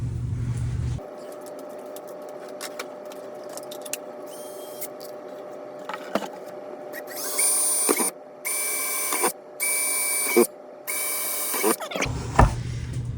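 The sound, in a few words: drilling holes with a power drill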